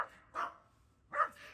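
A dog barks twice nearby, two sharp separate woofs with a short pause between them, the second trailing into a softer yip.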